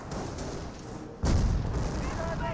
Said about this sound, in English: Fires a shot there.